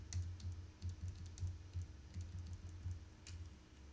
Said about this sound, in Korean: N을 계속 칩니다.